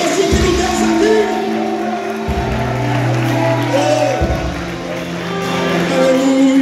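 A church congregation at a youth congress applauds and cheers, a dense wash of clapping and voices rolling steadily over sustained music throughout.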